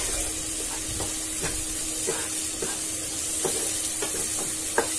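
Spoon scraping and stirring through spiced aubergine and potato curry in a hot pan, in a series of soft strokes over a constant loud sizzle of frying oil.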